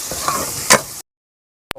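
Onions hitting hot oil in a pan for a karela curry give a loud, steady sizzle, with one brief louder burst of frying, then the sound cuts off abruptly.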